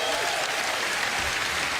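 Audience applause for a guest named Brittany Hicks on a talk show, a loud, dense, sustained burst of many hands clapping with crowd noise mixed in.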